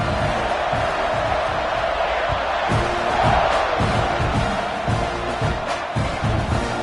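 A football stadium crowd at an SMU versus Texas A&M game roars loudly and steadily during a kickoff, a dense, continuous wash of cheering with scattered shouts and swells throughout.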